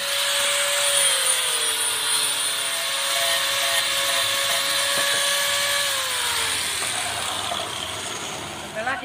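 A power tool grinds and cleans weld seams on a chair built from a recycled motorcycle wheel rim, giving a steady high-pitched whine whose tone drifts slightly before tapering off near the end.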